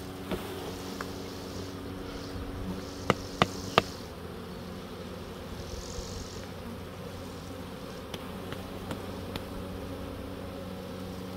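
Honeybees buzzing as a frame is shaken out over an open hive, a steady drone with a few sharp knocks of the frame early on, close and moderately loud.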